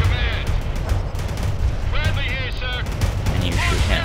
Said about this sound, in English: You get him, you also shoot a missile there.